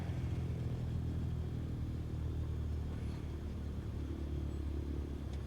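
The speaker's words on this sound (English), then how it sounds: "Now apply the brakes to slow us down and bring the plane to a stop." An airliner in Microsoft Flight Simulator rolls down the runway while braking to a stop, giving a steady, loud low rumble with engine drone that holds almost unchanged throughout.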